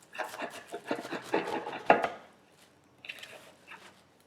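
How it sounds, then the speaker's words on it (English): A knife cuts through Napa cabbage on a board. A run of quick crisp crunching chops sounds close, then a pause, then a shorter, fainter burst of slicing. "start trimming our Napa cabbage. For speed purposes, I like to cut mine in half"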